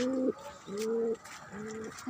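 Pigeons coo on a rooftop garden in three drawn-out, low hooting calls, each separated by a short pause, close by and clear with no talking.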